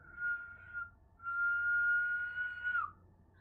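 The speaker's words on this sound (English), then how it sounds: "That was my loud whistle." A person whistles loudly, two sustained single-pitch blasts, a short one followed by a longer held note that bends downward at the end, close and alone.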